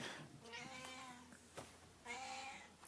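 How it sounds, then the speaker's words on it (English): A cat meows twice, clear harmonic cries with a short gap between them, fairly close against a quiet room in a custom motorcycle build workshop. "Cat!"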